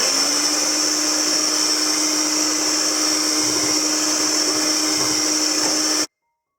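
An electric beater whirring steadily at its lowest speed through strawberry cake batter, a loud continuous motor drone that runs for about six seconds and then cuts off abruptly to silence.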